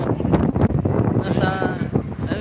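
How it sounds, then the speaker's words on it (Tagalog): Strong seaside wind buffets the microphone at Bagasbas in Legazpi, a loud, steady roar with gusty surges and no clear speech. "Sobrang lakas din ng hangin dito"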